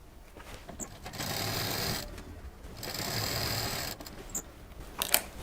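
A sewing machine stitches scrap fabric for a patterned bedsheet, running in two steady whirring bursts separated by short pauses, with a few small mechanical clicks between them.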